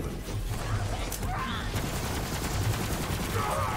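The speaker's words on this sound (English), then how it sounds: "Let's try the machine gun." A machine gun fires in the shooter game Borderlands 3 during a boss fight, a dense continuous rattle of rapid shots over constant loud game noise.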